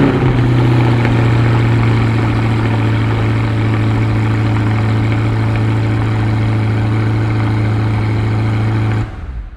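A Chevrolet Corvette C8 Grand Sport's 6.7 liter V8 idles loud and close with a deep, steady guttural rumble for about nine seconds, then cuts off abruptly near the end.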